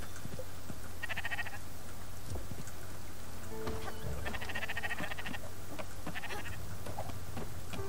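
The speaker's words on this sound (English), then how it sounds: "Sheeps." Sheep bleat in the video game Spiritfarer, several short calls in bursts over steady rain-like ambience and game background hum, moderately loud and without talk.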